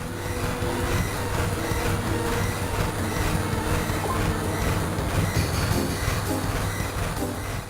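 A moving train in the video game Final Fantasy VII rumbles and clatters continuously, a dense, even rolling noise with faint rhythmic thumps and no voices.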